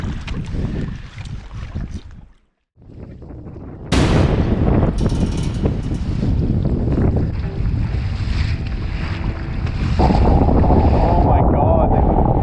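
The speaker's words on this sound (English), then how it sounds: "This is a little much to be paddling into this headwind." Strong headwind roars across an open northern Manitoba lake with whitecaps, loud blustery buffeting and wave wash around a paddled canoe, with a brief lull near the start before the wind surges back in and stays steady.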